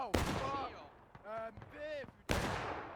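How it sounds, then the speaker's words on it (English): Musket fire in the War of Rights video game during a historical rules event on a Washington Street map, with a sharp nearby shot, then voices shouting, then another loud crack. "Here comes JD doing a little bit of shooting."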